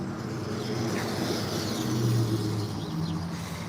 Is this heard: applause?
no